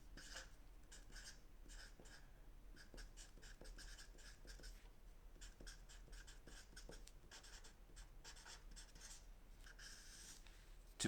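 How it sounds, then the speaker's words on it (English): A pen scratches steadily across paper as someone writes by hand, faint and close, with continuous rubbing strokes and small tapping accents in a quiet room. "let's just write it down one more time."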